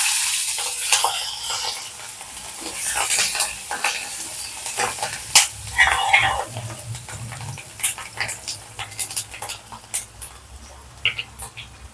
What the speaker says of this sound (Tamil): இப்போ வெள்ளைப்பூடை சேர்த்துக்கலாம்.